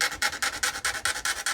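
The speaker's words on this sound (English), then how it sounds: "Just going to sand, there's a little edge on there, I'm going to sand away." Sandpaper rubs in quick, even back-and-forth strokes along the edge of a Tamiya 1/10 RC GR Yaris body shell, about eight close, steady scratchy passes with no voices.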